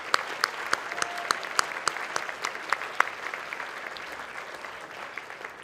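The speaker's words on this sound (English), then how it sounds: "Let's give them one more round of applause." Audience applause at a Boys and Girls Club Youth of the Year event, a steady wash of many clapping hands with a few louder nearby claps standing out, sustained at even strength throughout with no talking.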